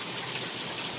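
Rain pours in a dense, loud, continuous hiss and patter at close range, a steady wash of droplets with no let-up and no voices.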